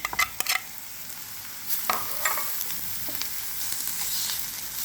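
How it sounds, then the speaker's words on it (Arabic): Eggplant fries quietly in oil in a pan with garlic, a soft steady sizzle with a few sharp utensil taps at the start and light stirring scrapes, fairly faint and without talk. "خليها تنقلى كيما هكا تتبال شويه، وتزيدي لها سنينه الثوم كيما هاك"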